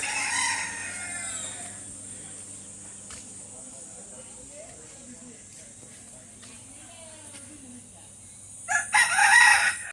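A rooster crows loudly near the end after a quieter stretch of insect chirping and distant birds, at a village farm stay in Karjat, near Mumbai, with ducks, hens and pigeons.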